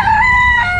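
A rooster crows at an outdoor pet market, a single sustained, strained call held steadily for under a second, loud and close, with a low murmur of market noise underneath.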